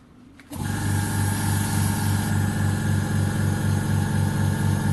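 A compact Vevor portable air compressor starts up abruptly and runs steadily while pumping, giving a loud, even motor drone with a fast pulsing throb close by.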